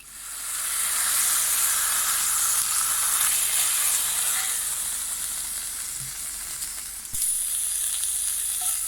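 Pork bifanas frying in a pan, a loud, steady hissing sizzle that stays close and even throughout with no talking.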